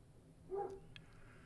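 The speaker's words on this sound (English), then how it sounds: "That's my dog barking outside." A dog barks outdoors in a short, faint burst heard at a distance, with a quieter second yelp just after, from beyond a workshop where a Craftsman King Seeley 100 drill press is being reassembled.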